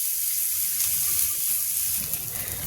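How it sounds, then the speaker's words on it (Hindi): Onions fry slowly over low heat in a pan with cumin, giving a steady close crackling sizzle that fills the short stretch with no talk. "प्याज भी बिल्कुल स्लो आंच पे ही पकाने लगे"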